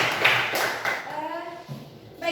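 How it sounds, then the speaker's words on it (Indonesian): A classroom of schoolchildren in Indonesia clapping their hands: a few sharp, close claps at the start, then a voice talking as the clapping fades. "Ya, tepuk tangan untuk kita semua."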